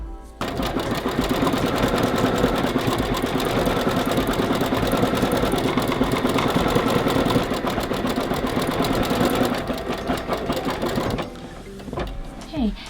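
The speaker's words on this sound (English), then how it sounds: "let's go ahead and put the hoop back on the machine and we'll sew the zigzag stitches" An embroidery machine stitches zigzag appliqué stitches in a hoop, running as a loud, steady, dense mechanical hum and rapid needle chatter for about eleven seconds before stopping.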